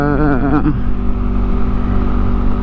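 Yamaha Aerox V1 scooter with a Calcal 5 aftermarket muffler revs up loudly and close, a rising engine whine in the first second settling into a steady, throaty idle drone.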